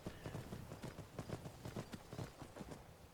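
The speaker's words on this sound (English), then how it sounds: "Now it's sprinting right now, and the horse will use up its stamina at some point, and then it'll be like a regular trot." Horse hooves pound in a fast, steady sprinting rhythm in the video game Skyrim, each beat clear and close, continuing evenly throughout with no talk over them.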